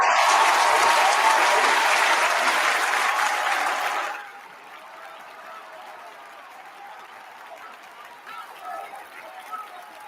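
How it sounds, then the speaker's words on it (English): A loud burst of crowd applause and cheering, like a standing ovation, fills the first four seconds, then cuts off abruptly to a quiet background with faint sounds. "standing ovation, round of applause for determination"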